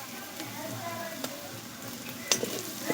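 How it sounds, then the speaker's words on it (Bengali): Ginger paste, garlic and onion sizzle steadily in a pan for a mustard chicken curry, with a few sharp spoon clinks and scrapes near the end. "আদা বাটাটাও আমি খুব ভালো করে একসঙ্গে তিনটেকে খুব ভালো করে ভেজে নিচ্ছি"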